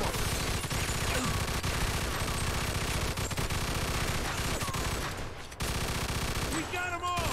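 Sustained gunfire from a shootout in the video game Mafia II, with dense overlapping shots and bursts running throughout under a continuous mix of game sounds, briefly dipping before resuming.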